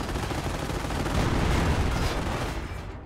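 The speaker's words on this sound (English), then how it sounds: "There's another tank battle going on over here." Tank battle gunfire in the video game Company of Heroes rumbles as a dense, continuous wash of distant shots and booms that swells and fades, with no voices.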